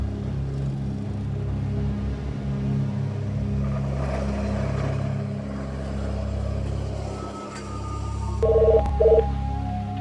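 A telephone is dialed, two short electronic keypad tones sounding near the end over a steady low rumble in a quiet indoor scene.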